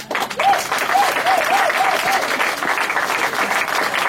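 A church congregation at an evangelical assembly breaks into loud, dense applause that carries on steadily, with a few raised voices and cheers mixed into the clapping.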